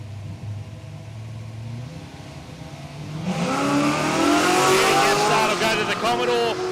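Drag racing cars launching down the strip at Palmyra Raceway in Australia, one a Ute: a low idle gives way to a loud, sustained roar of revving engines that rises in pitch, with a commentator talking over it.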